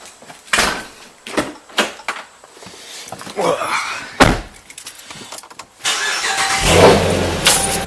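A car door thuds and keys jangle, then the engine cranks, catches and settles into a running idle that swells as the car pulls away, with brief speech-like sounds in between.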